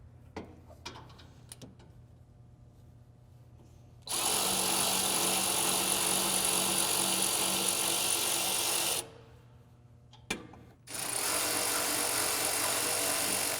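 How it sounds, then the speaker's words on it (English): A power tool spins out crash bar bolts on a 2016-2023 Toyota Tacoma, whining loudly in two sustained runs of several seconds each, separated by a short pause with faint clicks and handling noises. "if you have a power tool to assist you"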